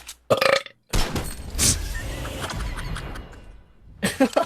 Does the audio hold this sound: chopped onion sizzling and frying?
no